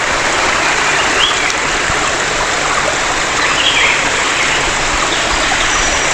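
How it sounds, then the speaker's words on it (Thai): A small waterfall deep in a forest pours in a steady, loud, close rush of falling water that stays even and unbroken, with no voices over it. "น้ำตกใกล้ๆนะครับน้ำใสมากนะครับ"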